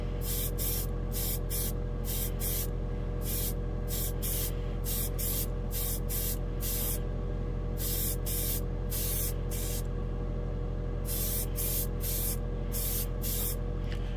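Airbrush spraying thinned Tamiya lacquer paint onto a white plastic spoon, with repeated short hissing bursts in an uneven on-off rhythm over a constant background hum, close and clear.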